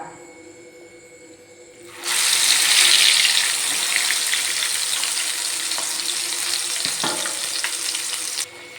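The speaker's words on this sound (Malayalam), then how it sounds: "ഇനി നമുക്ക് മസാല തിരുമ്മി വെച്ചിരിക്കുന്ന ഓരോ ചിക്കൻ കഷ്ണങ്ങളും ചേർത്ത് കൊടുക്കാം." Masala-rubbed chicken pieces drop into hot oil and set off a sudden loud, bright sizzle that holds steady at close range for several seconds before cutting off near the end.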